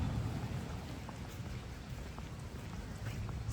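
Rain falls steadily on a rainy day at a beach in Hawaii, a soft continuous hiss and patter with a low rumble underneath, fairly faint and unbroken.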